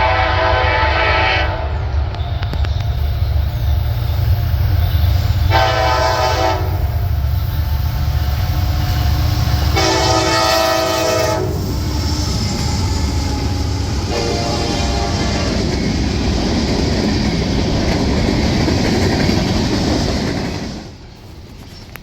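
Northbound freight train 16R rolls past close by with a steady, loud rumble and wheel noise, sounding several long horn blasts before the roar fades away.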